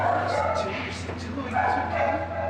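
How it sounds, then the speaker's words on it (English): Dogs bark in short repeated bursts at an animal care center, a few yips rising over a steady background hum, while a person speaks throughout. "This sweet dog is Oso."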